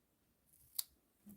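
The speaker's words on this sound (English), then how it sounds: "scissors." A single crisp snip of scissors, quiet and close, with a faint second rustle just after, from scissors cutting a piece of paper or linen in a crafting session.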